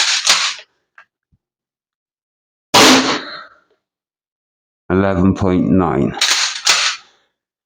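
An Umarex HDX 68 pump-action airgun shotgun fires sharp single shots, with a clearly separated crack near the start, another in the middle, and two more near the end, each followed by a short pump clack, while someone speaks between shots.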